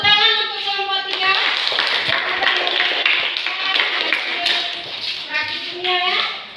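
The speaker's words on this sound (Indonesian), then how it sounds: "Tepuk tangan untuk kelompok 3." A classroom applauding group 3 after their presentation, bursts of hand clapping and tapping mixed with children's voices talking over it.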